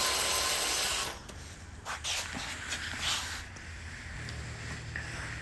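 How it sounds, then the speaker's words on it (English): Screws being driven into the thermistor bracket of a Maytag Bravos XL electric dryer: a loud, close whir of a driver for about a second, then quieter handling and faint rubbing noises. "And you're gonna screw 2 1/4-inch screws."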